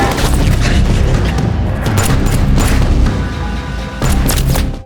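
A dam is blown up: a loud, sustained explosive roar with heavy low rumble and crashing debris, surging in waves before a final burst near the end.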